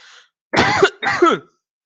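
Two harsh coughs in quick succession during a Python lecture, close and fairly loud, after a faint bit of noise at the start.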